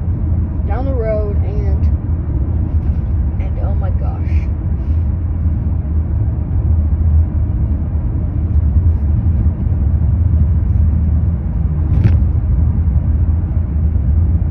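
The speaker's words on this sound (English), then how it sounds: "in the car going down the road" Inside a car driving down the road, a steady low engine and road rumble runs throughout, with brief voice-like sounds breaking in near the start and again later.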